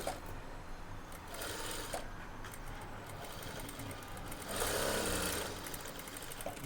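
An electric sewing machine stitches a blouse side seam with a continuous rapid mechanical whirr that swells briefly louder, then settles, close by and with no talking.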